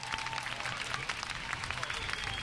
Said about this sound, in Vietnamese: Mình vỗ tay thật lớn cho các nhà tài trợ nào.